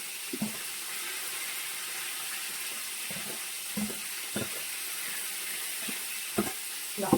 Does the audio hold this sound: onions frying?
yes